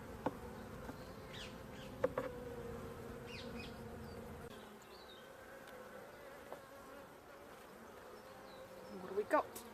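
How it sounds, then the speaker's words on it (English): Honeybees around an open hive hum in a dense, steady drone nearby, with occasional louder buzzes and light knocks as a few fly close. "lots of bees in and about"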